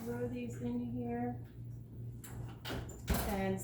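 An oven door opens on its rack so a tray of scones can go onto the middle shelf, giving a brief clunk and scrape in a home kitchen while a person keeps talking.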